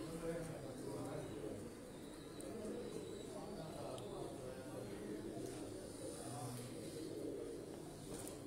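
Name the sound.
Salara pigeons cooing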